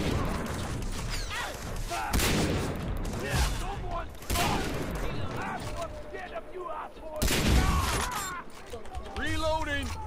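Powerful gun blasts in the Far Cry 3 shooter, several loud booming shots spaced a second or two apart amid thumps and battle noise, with voices talking and shouting over the shooting.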